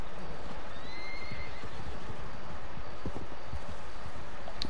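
Horses at the stables in the video game Red Dead Redemption 2, with a clear whinny rising over a steady bed of hoof clops, rustle and outdoor ambience, loud and close.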